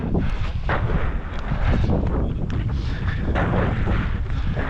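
Heavy wind buffets the microphone, a constant loud low rumble with gusty roars throughout.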